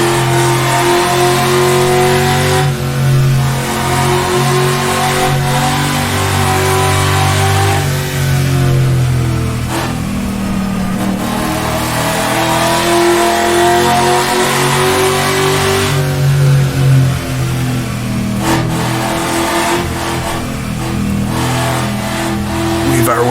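A 1950s sports car in rFactor2 roars around the Dundrod road circuit, its engine revving up and down continuously through gear changes, loud and close, with someone talking over it.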